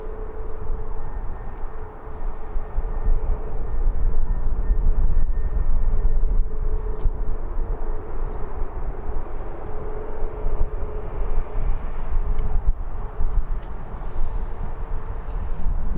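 An Air France airliner taxis toward the terminal at Birmingham Airport, a steady distant engine rumble and whine holding for the whole stretch with wind buffeting, no talk.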